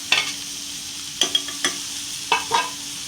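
Bell pepper and potato are stir-fried in a pot for vegetable khichdi: about five quick scraping stirs against a soft sizzle, close and distinct with short pauses between them.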